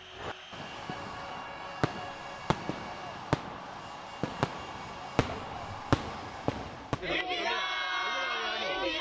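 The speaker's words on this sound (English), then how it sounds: "The sky above Navi Mumbai glowed with fireworks." Fireworks burst over Navi Mumbai in celebration of a cricket World Cup win, distant sharp bangs spaced every second or so over a steady noisy background, then a crowd roar and voices rise at the end.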